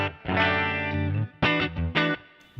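Clean electric guitar through a NUX MG-300 modelling a Deluxe Reverb amp, treble near 6 and mids and bass near 5: a long ringing chord followed by two shorter strummed chords, bright and sustained.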